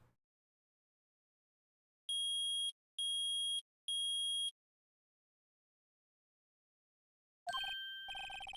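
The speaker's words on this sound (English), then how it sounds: "Loud beep possibly coming up." Three loud, evenly spaced electronic beeps from the Phoenix Wright: Ace Attorney video game, each about half a second long, followed after a pause by a brighter burst of game sound effects.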